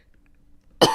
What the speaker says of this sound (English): talking makes me cough